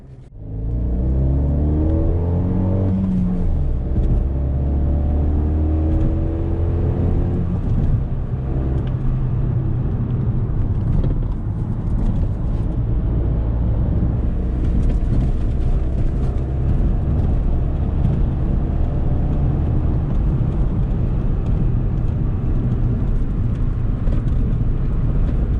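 Alfa Romeo MiTo car engine idling to warm up, then pulling away and driving, a loud steady engine rumble with rising revs that holds close and continuous throughout.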